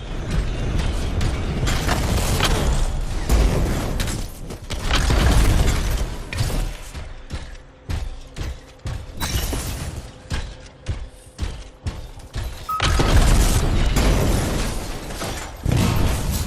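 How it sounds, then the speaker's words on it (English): Canisters explode in the video game Anthem amid heavy, booming game audio, loud rumbling bursts and mechanical clanks, with a quieter stretch of scattered pops before the din swells again. "It'll be a contained explosion."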